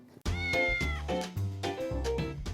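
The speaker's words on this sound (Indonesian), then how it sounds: "banyak banget kucing-kucing liar yang berkeliaran tanpa ada pemiliknya" A stray cat meows repeatedly, with several loud, close, wavering cries following one another almost without a break.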